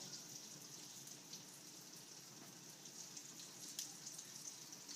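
Venison steak browns in a skillet with a faint, steady crackling sizzle, fine spitting pops spread evenly throughout, with no talking.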